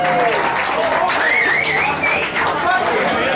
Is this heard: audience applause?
yes